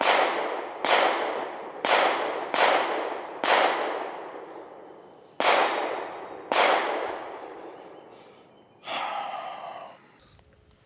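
Gunshots at a gun club, about eight sharp distant reports at irregular intervals, each with a long decaying echo, followed by a rougher burst near the end, heard alone with no voices.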